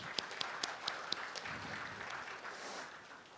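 At a developer conference, an audience applauds the local organizing team: several distinct sharp claps at first, then a soft, distant wash of applause that fades.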